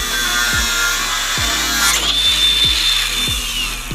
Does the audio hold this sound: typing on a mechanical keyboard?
no